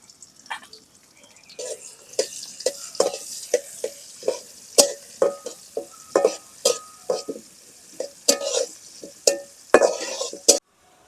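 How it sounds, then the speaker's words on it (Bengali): Chopped onion and garlic fry in oil in a pot with cardamom, cinnamon and bay leaf, as a spoon stirs in a steady run of about a dozen sharp, scraping strokes over a soft, continuous sizzle. "পেঁয়াজ রসুন লাল লাল করে ভাজা নিছি"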